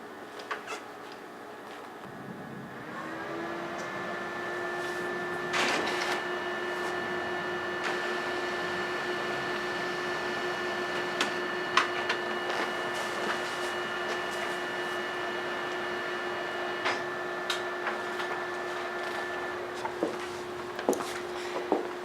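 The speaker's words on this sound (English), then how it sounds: "With your paper on the bypass door correctly," An inkjet-style printer feeds and prints onto coated transfer paper loaded through the bypass door, a steady mechanical whir with a sustained tone, scattered clicks and knocks, running continuously for about twenty seconds after a brief startup.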